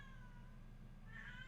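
A cat meows once, a short rising cry that stands out briefly near the end over a steady low hum, with no talk.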